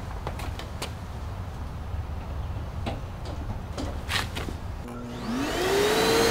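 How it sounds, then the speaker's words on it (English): A Makita VC4710 vacuum cleaner whirs steadily close by at moderate volume, with scattered light ticks and clicks, then its motor pitch rises and swells louder near the end. "this vacuum's right beside me"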